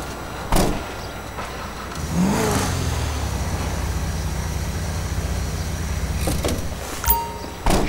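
Modded car engine in GTA 5 heard from outside the vehicle, a loud deep roar that swells into a sustained rev for several seconds, with short clunks before and after.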